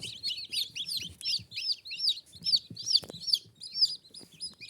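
Newly hatched bantam chicks, half a day old, kept indoors under a lamp, peep in a quick, steady run of high, clear chirps, close and fairly loud, with faint low household noise underneath.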